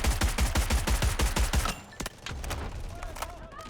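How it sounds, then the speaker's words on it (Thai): Rapid automatic gunfire from the shooter game Delta Force Hawk Ops rattles out in a loud, tightly spaced burst, then stops, leaving sparse distant shots and quieter battlefield ambience. "ยิงอย่างบ้าคลั่งก็อย่างที่เห็น"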